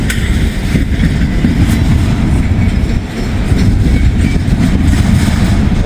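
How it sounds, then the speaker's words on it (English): A Norfolk Southern intermodal train rolls past close by, a loud, dense low rumble with faint clattering that holds steady throughout without talk. "We also have a train coming. Norfolk Southern."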